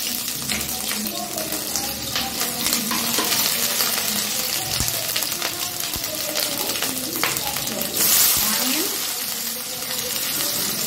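Ginger garlic paste fries in hot oil in a pan for a Telangana-style prawn fry, giving a steady, fairly loud broadband sizzle throughout, with occasional clinks and a soft voice in the background.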